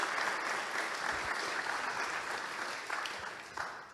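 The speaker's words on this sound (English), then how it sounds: "Applause, please." Moderately quiet, continuous applause from an audience at the ZK Hack Montréal hackathon kick-off presentation, tapering gradually with a few sharper claps near the end.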